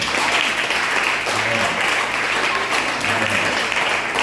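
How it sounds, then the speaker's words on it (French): A church congregation applauding during a service, a dense, steady wash of clapping that keeps on without pause, with voices mixed underneath. "On nous acclame les serviteurs ça pour nous, s'il vous plaît."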